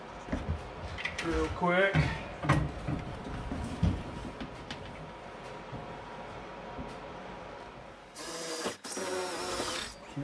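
Power drill boring a hole through a wall into a wooden backer board during a house build, running in a short loud whirring burst near the end after a stretch of someone talking.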